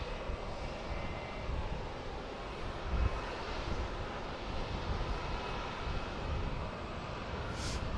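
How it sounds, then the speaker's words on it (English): An Embraer Legacy business jet at Dallas Love Field in severe weather, a steady, fairly faint engine rumble with wind buffeting the microphone, no voices. "Nice Embraer. Legacy right there."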